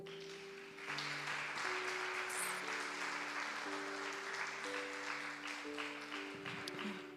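Church congregation applauding during a worship service, a steady, moderately distant wave of clapping that starts after a moment and continues over soft sustained keyboard chords.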